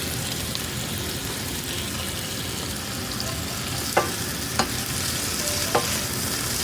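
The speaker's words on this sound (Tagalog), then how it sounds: "At idadagdag na rin natin ang ating kamatis." Tomatoes sizzle steadily in a hot frying pan, with a few sharp scrapes from stirring near the end.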